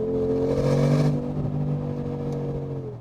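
Close and loud, a Brabus G700 G-Class, a 700-horsepower Mercedes-AMG G63 conversion, revs up, peaks around a second in, then settles into a slowly falling, steady engine tone.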